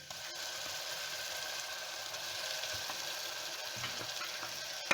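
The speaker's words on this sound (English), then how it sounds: "The onions have fried well, so we are going to add on the masala" A steady, dense sizzle of masala spices (chili powder, coriander powder, cumin powder, ginger garlic paste) frying in hot oil with fried onions and curry leaves for an Anglo-Indian chicken curry, with faint stirring scrapes and no talking.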